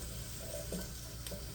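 Soft, steady sizzle of onions frying in a pan, with a faint stir and clink partway through; no voices.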